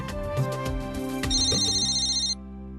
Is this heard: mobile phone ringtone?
yes